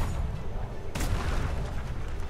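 A single sharp gunshot blast in a video game cracks out midway through a noisy, rumbling background, loud and close, with no speech.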